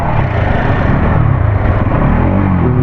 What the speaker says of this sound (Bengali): ইঞ্জিনের সাউন্ড এরকম আসছে।